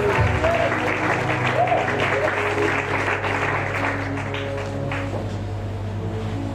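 A church congregation applauding together, dense sustained clapping close and loud, with voices mixed in underneath and tapering off slightly toward the end.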